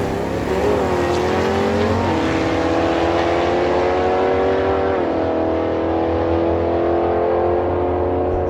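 A 1971 El Camino with a 427 cubic inch engine and a 6 liter Pontiac G8 launching side by side at a drag strip, loud revving engines climbing through gear shifts, then fading.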